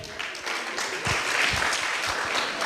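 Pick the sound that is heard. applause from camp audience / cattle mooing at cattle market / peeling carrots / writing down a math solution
applause from camp audience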